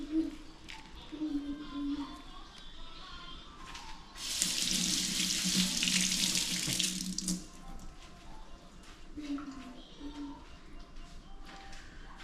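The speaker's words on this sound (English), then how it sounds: "Just wash the top off." A kitchen tap runs as the top of a coconut milk can is rinsed, a burst of water splashing for a few seconds in the middle, with quieter handling sounds before and after and a voice speaking nearby.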